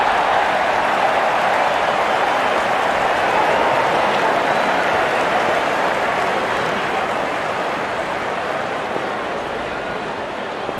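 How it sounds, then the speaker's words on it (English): A good crowd cheers and applauds at a cricket match as the opening batsmen walk out, a steady dense roar of clapping and voices that holds loud throughout before easing slightly at the end. "Out come the openers, cheered by a good crowd in."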